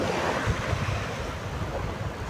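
Sea waves wash steadily against a rocky shore in a continuous rushing surf, blended with wind buffeting the microphone, and no one speaks.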